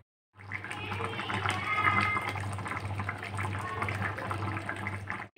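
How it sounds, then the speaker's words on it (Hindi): A pot of eggplant and peanut vegetable curry on the boil at medium heat: steady bubbling and burbling with a low hum, close and moderately loud, holding for about five seconds. "देखिए सब्जी बॉईल होने लगी है।"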